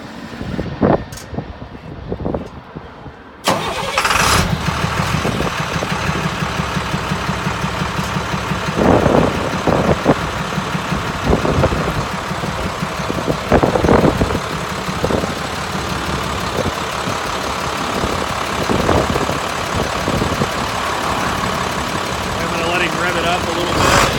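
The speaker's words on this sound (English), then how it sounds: "we will go ahead and start up the truck and let you listen to it." A 2006 International 4300 forestry bucket truck engine cranks and fires after a quiet start, then settles into a loud, steady diesel idle with a few faint knocks and bumps over it.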